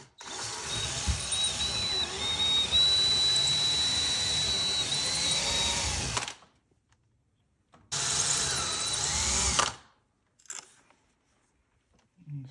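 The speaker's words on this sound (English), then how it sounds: "Drill that." A power drill bores holes into a wall to mount a bracket for a cat scratch post, running loud in two long bursts separated by a pause, then brief short blips at the end.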